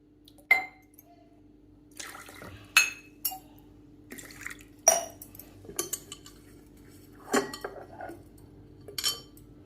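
Water is poured in short splashing bursts into a pressure-cooker pot of pavata field beans, about three and a half cups, amid sharp metallic clinks of utensils; there is no talking.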